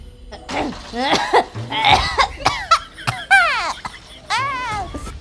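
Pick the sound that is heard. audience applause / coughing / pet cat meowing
coughing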